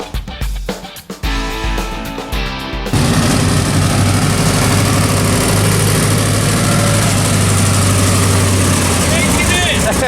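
A Chevelle hot rod engine, turbo removed, rumbling at idle after a few seconds of scattered knocks and background noise, then a loud steady low drone that continues to the end.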